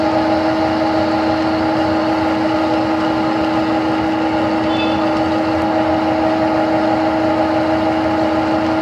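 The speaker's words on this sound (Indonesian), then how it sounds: "Kita nyalakan lagi mesinnya." A small engine runs steadily at idle, a continuous even drone with a strong low hum that holds unchanged throughout, close by and loud, with no talking.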